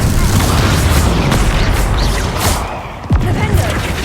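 Bombarda blasting spell in the game Hogwarts Legacy, a loud close booming explosion with heavy rumbling bursts and a sharp impact near the end, a voice heard over it.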